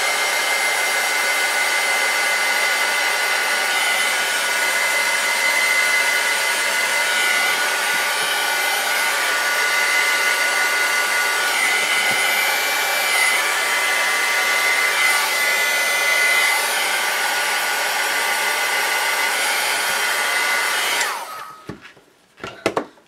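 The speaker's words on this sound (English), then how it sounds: "let me just hit this with my heat gun and show you how it looks when it's dry" A heat gun blows on freshly made paper flowers, a loud, steady close-up whooshing drone that runs unbroken before cutting off abruptly near the end.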